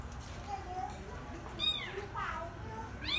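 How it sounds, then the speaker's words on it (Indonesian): A kitten meow sound played from a phone to prank a cat, with a couple of short, thin high-pitched mews over low background noise and faint talking. "Kita bunyikan suara kucing,"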